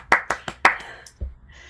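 Applause over Zoom microphones at an online academic keynote: a few sharp, separate claps in an uneven rhythm, close and fairly loud, then fading into a faint low thump and quiet hiss.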